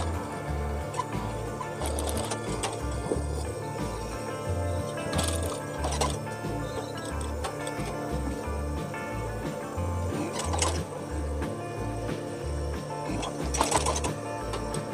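A sewing machine stitches fabric for a round-collar gamis dress, with a steady low mechanical whir in bursts and occasional louder clatters between runs.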